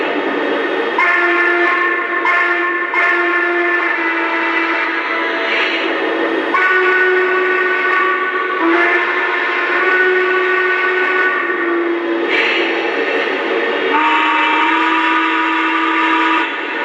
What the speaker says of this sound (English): you have a choice of 5 different whistles